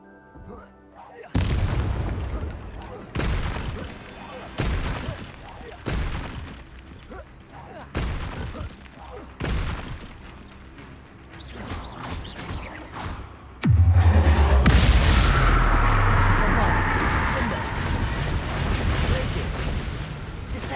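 Combat spells in Hogwarts Legacy, including Incendio, Confringo and Glacius, go off in a series of sharp booms and blasts, with a heavy, louder burst of sustained rumbling near the end; a voice talks between the impacts.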